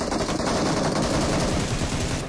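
Rapid bursts of gunfire from a PUBG game fight, a dense, continuous rattle of shots, loud and close with no talk.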